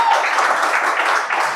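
A game show studio audience claps and applauds steadily in a brief, dense burst, with a faint voice mixed in.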